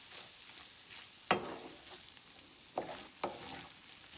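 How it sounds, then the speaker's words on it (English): Green onions fry in a pan on a stove at medium heat, a soft steady sizzle broken by a few sharp scraping clacks as they are stirred, with no voices. "My stove is on medium heat. And I'm gonna add my green onions. We're gonna give this a mix."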